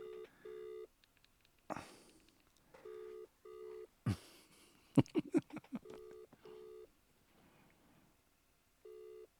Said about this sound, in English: okay, hold on. I'm calling him.